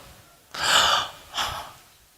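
A voice imitates labored, gasping breaths, like a gravely ill hospital patient struggling for air: two strained, breathy gasps, the first longer, close and fairly loud with no words.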